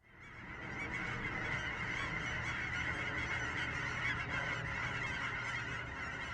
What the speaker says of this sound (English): Especially Tundra Swans